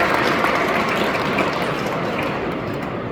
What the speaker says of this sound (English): Please give them a round of applause for